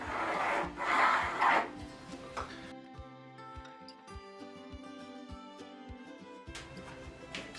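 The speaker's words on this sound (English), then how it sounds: "I'm just drawing a line on the back here so I don't miss with my screws." A pencil rubs and scratches across the back of a wooden board in short strokes for a couple of seconds, marking screw positions while building a lumber rack, followed by quieter tapping and faint music.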